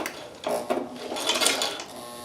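Motor-driven Chinese shoe patcher sewing machine, a 220-volt unit, running with a fast mechanical whirring and rhythmic clatter of the needle mechanism, steady and close with no talking.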